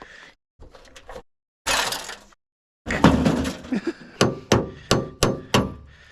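After some scattered knocks and scraping, a hammer strikes the metal of a stuck Toyota Tacoma tailgate in a steady series of about six sharp, ringing blows, close and loud.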